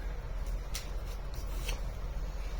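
Tarot cards are shuffled close by, a run of soft papery riffles and flicks in irregular bursts over a low steady hum, with no one speaking.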